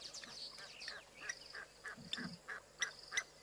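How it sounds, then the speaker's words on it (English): Egyptian geese squabbling in the African lowveld, a run of short, nasal honks and harsh calls repeating at uneven intervals, faint and in the background among other bird sounds. "The ever irritating Egyptian goose having a fight in the background."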